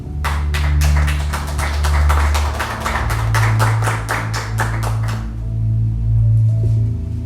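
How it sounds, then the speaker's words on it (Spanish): A church congregation claps in a rhythmic, steady burst for about five seconds, then the applause stops abruptly, leaving organ or keyboard tones sustaining underneath. "Denle un aplauso al Señor."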